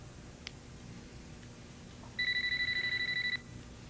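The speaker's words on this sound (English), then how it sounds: "Is that your phone?" A mobile phone left behind in a room rings with a brief electronic warble, a steady run of rapid pulsed tones lasting just over a second, moderately loud over quiet room tone.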